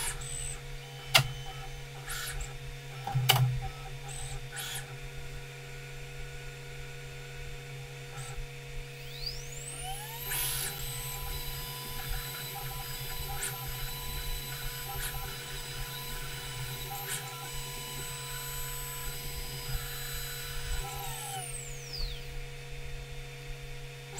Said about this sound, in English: Confirm the tool change.